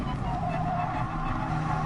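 A Renault Megane with worn tyres skids in a racing video game, a steady close engine drone with tyre scrub and squeal held throughout, and no voice.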